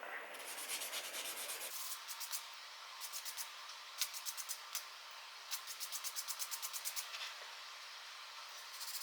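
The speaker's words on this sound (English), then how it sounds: "I find one of these nail buffers works really well for polishing up the edges of a lip, so just gonna work it from coarse to the fine grit." A nail buffer rubbing and polishing the edges of a jerkbait lip, working from coarse to fine grit: a loud close hiss, then short rhythmic scratching strokes in quick bursts, alone without talk.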